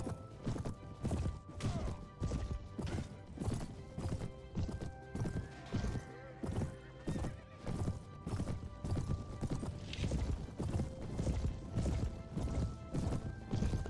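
Massed horses galloping in a cavalry charge in the medieval game Mount & Blade: Warband, with a steady rolling thunder of hooves, loud and close throughout, dense overlapping beats and occasional whinnies.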